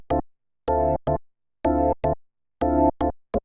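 Short, punchy synth chords in Ableton, each carrying an added bass note an octave below, play in clipped stabs with gaps of silence between them, a longer hit followed by a quick one in a repeating pattern.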